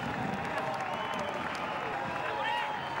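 A cricket stadium crowd applauds and cheers continuously for Muttiah Muralitharan's 800th Test wicket, with a broad, sustained roar of clapping and a commentator's voice over it.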